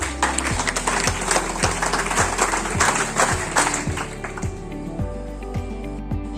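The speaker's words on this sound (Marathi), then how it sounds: "एकदा जोरदार टाळ्या होऊन जाऊ देत" An audience at a school Teacher's Day event gives a hearty round of applause for teachers, with dense, continuous clapping that stays loud throughout, while a faint musical tone hums underneath.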